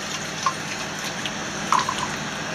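Water runs steadily from a tap to rinse colloidal silver-making accessories, a soft continuous hiss with a few faint drips and splashes, quiet and close, with no talk.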